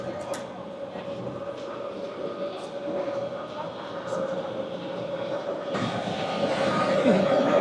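EuroCity 159 train from Graz to Zagreb, two carriages hauled by an ÖBB Siemens Taurus locomotive, a steady rolling drone with a constant hum that grows slightly louder toward the end.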